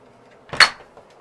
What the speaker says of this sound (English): you can open this door and close it on you